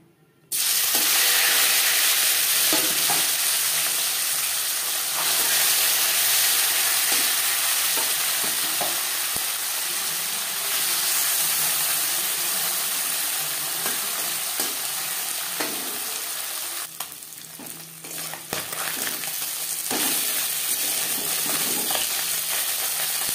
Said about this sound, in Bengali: প্রথম ব্যাচের মাছ ভেজে নেওয়া হয়ে গেছে